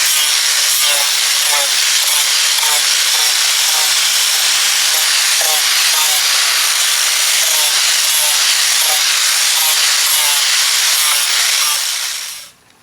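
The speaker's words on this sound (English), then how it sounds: "with this Makita grinder on this thing, man, like I know that I'm pretty good, you know, grinding." A Makita grinder grinding bondo filler on a custom fiberglass center console, giving a loud, continuous, close-up abrasive whine and hiss that runs steadily before cutting off abruptly at the end.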